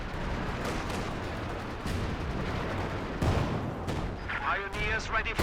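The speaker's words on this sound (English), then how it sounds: "Some more double rockets trying to clear out the trees here for Rutra." Double rocket artillery salvos in a Company of Heroes 2 2v2 match, fired at a treeline, producing a continuous rumble of blasts and impacts with a sharper burst near the end, mixed under game noise and voices.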